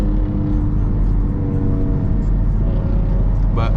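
A BMW F82 drives with a steady, loud low engine drone and road rumble from inside the car, constant throughout with no clear revving changes.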